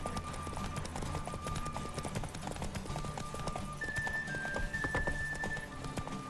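Horse galloping in The Witcher 3: Wild Hunt, fast steady clip-clop of hooves in a loud continuous rhythm, with a brief whinny-like tone and game sounds layered over it.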